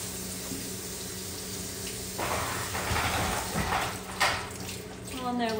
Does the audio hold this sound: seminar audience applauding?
no